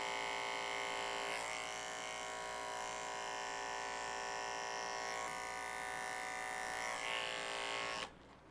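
Electric trimmer working on a beard during a grooming demonstration, a steady close buzzing hum running unbroken for about eight seconds before cutting off abruptly.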